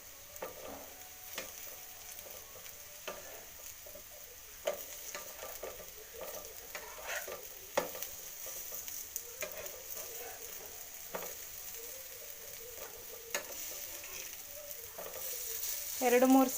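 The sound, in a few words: raw banana slices frying and being flipped in a pan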